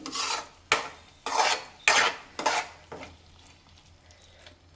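Egg bhurji stirred in a pan, heard as five loud, close scraping strokes in a quick rhythm, after which the sound drops to a quiet background as the pan is covered with a lid.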